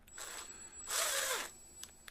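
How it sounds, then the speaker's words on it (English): A power drill fitted with a small bit bores a hole while repairing a chair, a steady whining burst in the middle with quieter drill sounds before and a couple of short clicks after. "You gotta work it, because that drill bit that I used is actually a little small."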